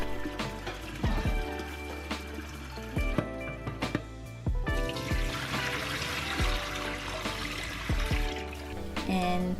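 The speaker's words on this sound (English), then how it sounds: "just rinse away your soaked lentils, wash them a couple of times" Soaked lentils are rinsed and washed under running water, with a steady pour and splash, sloshing and swishing in a pot or bowl, and a few knocks against the container, all close up.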